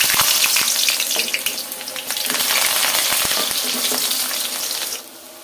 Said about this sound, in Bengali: খুব সুন্দর করে আলুটা লাল লাল করে ভেজে নিতে হবে